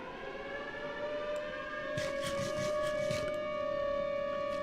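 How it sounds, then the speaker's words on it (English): A civil defense siren wails in a steady, sustained tone at a moderate distance, with soft bumps and rustles up close partway through and no speech. "Maybe the siren's too loud."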